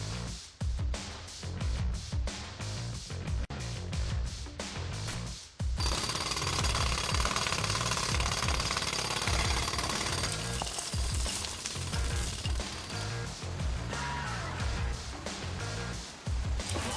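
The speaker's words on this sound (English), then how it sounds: "I need more time to finish hammering the hole!" Hammering a hole in the video game TMNT Mutants Unleashed: a loud, continuous rapid jackhammer-like pounding, first in choppy bursts, then a sustained rattling drill roar lasting many seconds.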